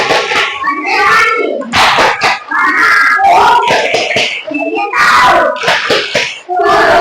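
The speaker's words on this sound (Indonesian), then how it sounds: "untuk penyemangat mari kita tepuk konsentrasi" In an Indonesian classroom, children chant and clap through a concentration clapping routine, with loud, close rhythmic hand claps in quick bursts mixed with their shouted voices.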